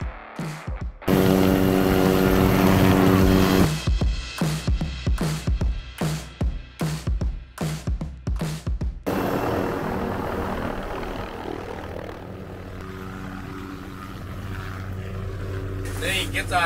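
A helicopter in flight gives loud rotor and engine noise. Rapid rhythmic chopping beats come through in the middle, then it settles into a steadier roar with wind.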